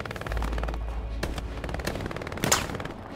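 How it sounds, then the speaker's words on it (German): Several machine guns fire sustained bursts in Hell Let Loose, loud and close, with sharp cracks stacking into a rapid continuous rattle over a low battlefield rumble. "Das sind drei MGs, die auf mich draufhalten."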